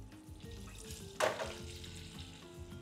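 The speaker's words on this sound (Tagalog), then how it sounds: "Just double fry it quickly." Bang bang shrimp getting a quick second fry in hot oil give off a steady sizzle, with a brief louder hiss about midway as the pieces hit the oil.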